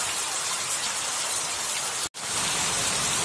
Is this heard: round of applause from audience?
no